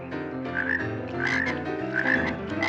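Frogs croak in a dense, continuous chorus, overlapping raspy calls pulsing close and loud with no voices.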